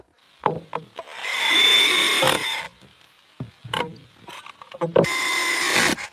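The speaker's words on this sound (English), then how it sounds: "He screws it on and it just comes loose." A wooden board being screwed onto a joist makes bursts of grinding, rubbing wood-and-tool noise, mixed with short knocks and clatters at close range.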